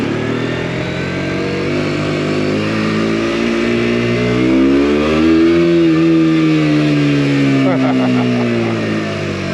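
A KTM RC125 sports motorcycle revs while being ridden, its engine note climbing and falling in a loud, high-pitched drone heard close and continuous, with a person talking over it.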